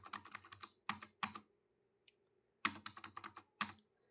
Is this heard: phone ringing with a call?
no